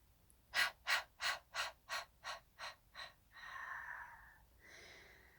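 Quick, forceful rhythmic breaths in and out, about eight sharp huffs in a steady row, followed by two longer, softer exhalations; close and quiet, with no talking.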